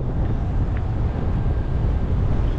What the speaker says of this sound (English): I didn't realize it's that windy.